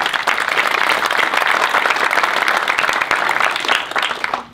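A crowd at the Nuit de la Résilience event in Saint-Etienne applauds to welcome the association's president, with steady, dense clapping that fills the room and carries throughout before tapering off at the end.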